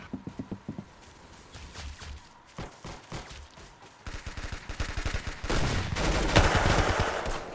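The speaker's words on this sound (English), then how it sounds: "Sounds like a lot of shooting going on the other side of the house." Gunfire in the Roblox shooter Arsenal, coming from across the house: rapid bursts of shots, sparse at first, then denser, swelling into a sustained volley that grows louder and closer.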